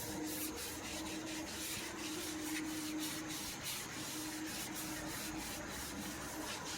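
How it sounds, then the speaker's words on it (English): Bristles of an Autofiber Scrub Ninja brush scrub a steering wheel wet with Dagger all-purpose cleaner, giving a steady close rasping rub with quick repeated back-and-forth strokes and no voices. "We're going to go ahead and clean our steering wheel"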